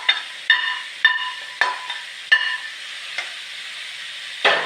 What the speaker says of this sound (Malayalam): അതിലേക്ക് ഞാൻ കറിവേപ്പിലയും കൂടി ചേർത്ത് കൊടുക്കുകയാണ്.